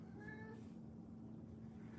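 A domestic cat gives a single short meow near the start inside a drawing studio, followed by a steady low hum.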